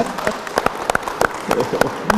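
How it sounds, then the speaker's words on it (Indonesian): An audience at a Chinese New Year television program claps, a fairly sparse applause of individual hand claps at an irregular, uneven rhythm over low background murmur. "tepuk tangan"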